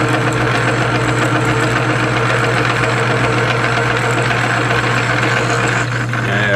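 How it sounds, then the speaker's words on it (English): Metal lathe running in back gear under heavy load, a steady loud mechanical drone with a low rumble and knocking texture throughout, close and continuous with no talk. "That funny noise that you're hearing is the load on my back gear."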